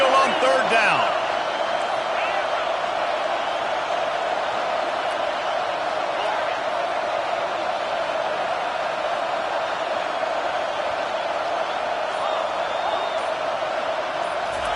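Dense, steady roar of a large home crowd cheering at a Kentucky Wildcats football game, loud and sustained throughout with no break.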